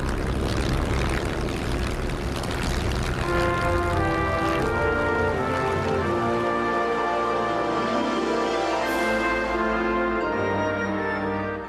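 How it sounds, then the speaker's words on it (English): Supermarine Spitfire fighter engine roaring at full throttle for takeoff, a loud sustained droning hum with steady harmonic tones that shift in pitch as it builds, no voices. "I turned into wind and opened the throttle."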